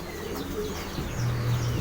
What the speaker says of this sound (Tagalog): Puro ibon pala natin yung nandito.